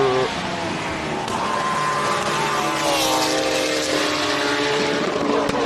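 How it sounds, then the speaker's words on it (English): A 4-litre V8 race car engine roars loudly and continuously at a hill climb, its pitch rising and shifting as it passes close by. "Infinity motor, 4-litre V8."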